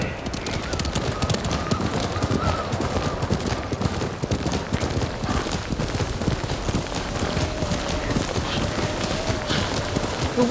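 A horse's hooves clip-clop continuously under snowy weather in the samurai video game Ghost of Tsushima, a busy, steady trotting rhythm layered with wind and game ambience.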